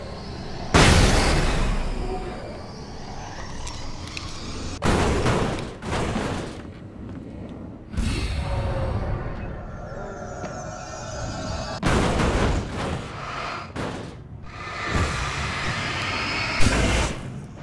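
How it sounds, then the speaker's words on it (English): A flashbang grenade goes off in Alan Wake Remastered: several heavy booming blasts, each a sharp loud burst followed by a rumbling decay, spaced a few seconds apart with no talk. "I get a flashbang."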